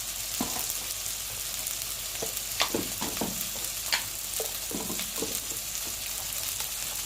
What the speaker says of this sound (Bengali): হলুদ মশলাটারে বাজা করছি ভালো করিয়া